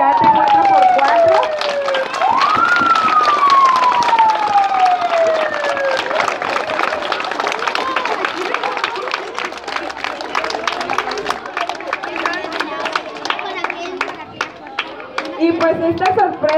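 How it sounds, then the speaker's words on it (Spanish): Crowd applause for a 4x4 rescue team at a school event, steady dense clapping that continues for several seconds after a loud voice trails off at the start, with cheering mixed in. "Vamos a darle un fuerte aplauso al grupo de rescate 4x4."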